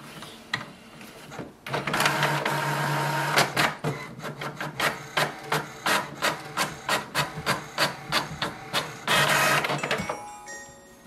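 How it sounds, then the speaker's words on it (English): An HP Envy 6030e printer prints an information page: a whirring feed followed by a long series of rapid, evenly spaced mechanical clacks, then a final whir as it finishes. "Wait for the printer to print the information page."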